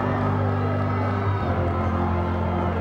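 Packed crowd at a high school basketball game in a convention center, a dense roar of voices and cheering filling the space, with a commentator talking over it.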